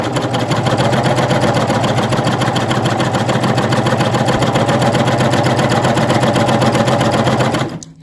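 A coverstitch machine sews through fabric in a steady, fast mechanical hum of rapid stitches, running continuously for several seconds before stopping abruptly near the end.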